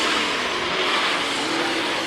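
Late model race cars circle the Amsoil Motor Speedway track in a heat race, with engines giving a continuous loud roar that carries steadily through the whole moment and no talking over it.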